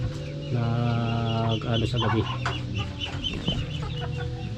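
Free-range chickens in their pen cluck and squawk close by, with one long tonal call near the start and a busy flurry of clucks after it. Someone speaks briefly over the birds.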